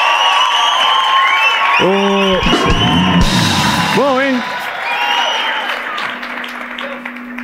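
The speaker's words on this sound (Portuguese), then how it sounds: "salva de palmas pro Celso Portiolli." A studio audience applauds and cheers, a continuous wash of clapping with whoops and yells, while someone speaks briefly and other voices call out over it before the applause fades.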